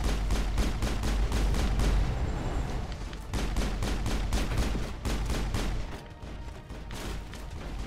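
Gunfire in the Mass Effect video game, a dense run of sharp repeated shots and bursts, loud and close, tapering off near the end.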